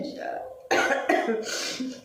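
A woman coughs sharply a couple of times in quick bursts, close and fairly loud, with a little throat clearing after a brief quiet pause.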